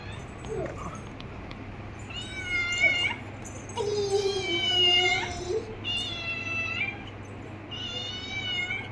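A cat meows repeatedly indoors, drawn-out, wavering calls of varying pitch, close and clear, with a soft voice briefly in the background.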